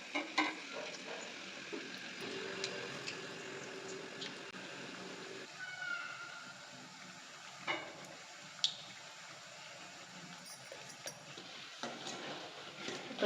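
Bondas made from ragi flour and gram flour fry in hot oil, giving a continuous soft bubbling sizzle that is faint and steady, broken by a few small clinks and a brief higher squeak.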